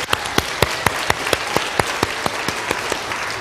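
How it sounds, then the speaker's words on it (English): An audience at a Sons of the American Revolution program gives a round of applause: a sparse, fairly slow rhythm of distinct claps, close and moderately loud, with no talking. "Now, let's give Don a nice round of applause here."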